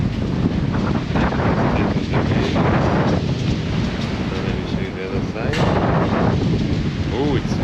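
Strong wind buffets the microphone during a storm on a rough fjord, a loud, constant roar with gusting rumble and sea noise throughout, and a voice speaks briefly over it.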